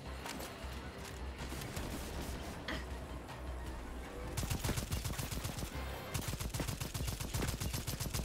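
Rapid bursts of gunfire in the video game Second Extinction, steady crackling fire that turns into a denser, heavier rattling barrage partway through, loud and continuous, with no speech over it.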